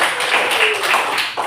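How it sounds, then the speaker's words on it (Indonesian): Classroom applause, a short burst of many hands clapping together at close range, dense and steady before cutting off abruptly. "Kita berikan sekali lagi tepuk tangan kita semua."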